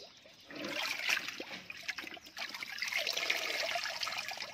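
Kratom leaves being rinsed in water, with a steady trickling and splashing of water running continuously throughout at close range, with no voices.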